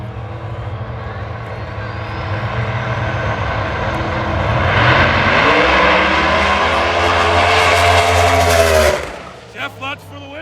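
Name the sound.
drag racing car engine building turbo boost at dragway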